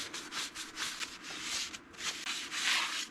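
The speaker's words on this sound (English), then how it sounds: "I'm gonna put a little brake parts cleaner on this rag and just go through and wipe that off." A rag soaked in brake parts cleaner scrubs grease off a new front brake rotor on an Audi A4 Quattro, making soft, repeated rubbing strokes at close range with brief pauses between passes.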